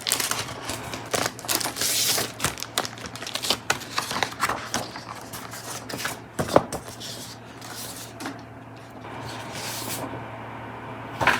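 A merchandise package from Japan Expo being opened by hand, with close crinkling, tearing and rustling of plastic and cardboard in irregular bursts over a low hum, with no talking.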